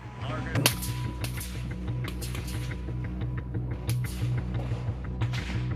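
Rifle gunfire on a Marine Corps recruit pre-qualification firing range: sharp shots crack out one after another, some near and some farther down the line, over a steady low mechanical hum.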